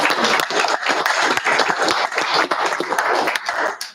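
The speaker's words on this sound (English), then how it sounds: "should clap for parents" Applause from attendees at a school board meeting, a room of people clapping warmly with dense, uneven claps that hold steady and taper off at the close.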